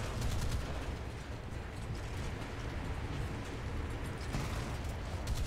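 Naval guns fire in a War Thunder sea battle, heard as a dense, continuous roar of distant heavy gunfire and booming blasts with no clear gaps, steady and rumbling throughout.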